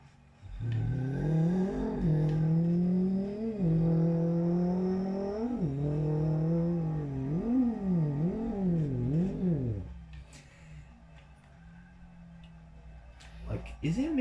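A voice imitates a Subaru car engine, a loud continuous vocal drone rising and falling through several revving sweeps for about ten seconds, then stopping into quiet background.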